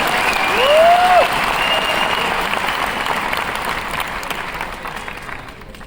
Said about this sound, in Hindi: एक जोरदार तालियां इंडिया ग्रो के लिए